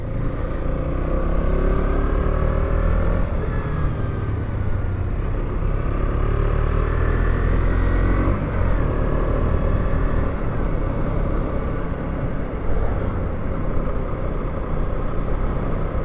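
A Husqvarna Svartpilen 125 with a six-speed gearbox is ridden along, its small engine humming steadily with gentle rises in pitch amid constant wind rush and road noise.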